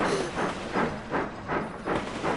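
Overloaded train crawling slowly along the track in Sid Meier's Railroads!, a rhythmic chuffing hiss repeating about every 0.4 seconds over a low rumbling roll, steady and close.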